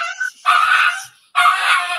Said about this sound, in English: We were interrupted by puppy dogs.